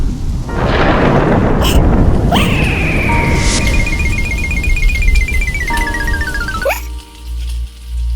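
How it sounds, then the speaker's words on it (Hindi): Heavy rain pours steadily with low rumbling thunder underneath, while a bright electronic sweep glides downward through the middle. "बारिश बारिश वापस जा, फिर किसी दिन मुड़ के आ, छोटा टप्पू खेलेगा।"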